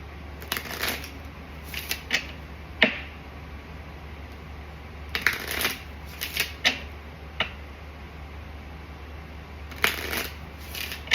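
Small cards shuffled in short bursts: clusters of quick papery flicks and snaps separated by pauses, close and clear over a low steady hum, with no voices.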